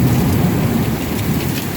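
Heavy summer hailstorm in Central Florida, a dense, loud, steady roar of rain and hail with a low thunder rumble underneath, continuous throughout and no voices.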